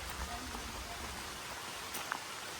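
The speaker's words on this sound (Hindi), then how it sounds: "और तेज बारिश आ गई है काफ़ी" Heavy monsoon rain pours steadily on a hill-village home, a dense, even hiss of falling water with faint scattered drops and no voices.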